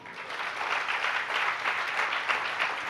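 An audience at a Jain religious discourse breaks into sustained, loud applause, many hands clapping together in a dense, even roar with no speech over it.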